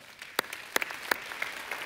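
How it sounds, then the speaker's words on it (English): An audience at a church gathering claps in a sparse, scattered way, with a few sharp handclaps standing out over a soft wash of ambient noise. "Not only that, you can clap."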